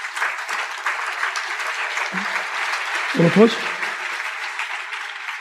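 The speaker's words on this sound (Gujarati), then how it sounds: "તાળી પાડો, તાળી પાડો" Broadband patter of clapping from a gathered congregation at a Swaminarayan katha, running steadily through the clip beneath a voice speaking over it.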